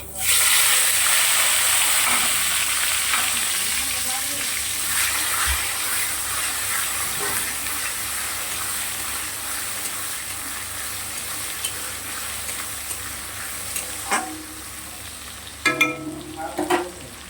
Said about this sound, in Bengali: পেঁয়াজ কুচি টমেটো কুচি বেশ ভালো করে লাল লাল করে ভেজে নিয়ে